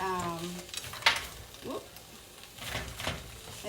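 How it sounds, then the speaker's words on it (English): A ground beef mixture sizzles softly in a frying pan while being stirred, with scraping utensil strokes over a continuous faint hiss. "I'm just going to mix this around, let this cook for a second"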